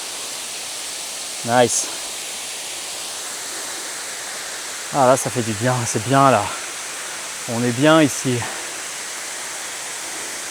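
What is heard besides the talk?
waterfall in Bulgaria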